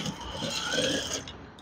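A sewing machine stitches up the hem of a curtain panel, a dense, steady mechanical whirr with rapid clicking running close and continuous.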